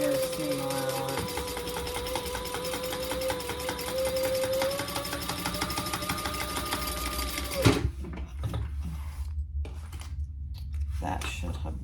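A sewing machine runs a steady, continuous seam at close range, humming and clattering for several seconds before stopping abruptly, followed by quieter handling noises.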